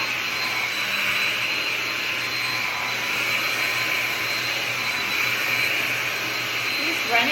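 A handheld blow dryer runs continuously while drying hair, a steady close whooshing hiss with a high whine, loud and even for the whole stretch.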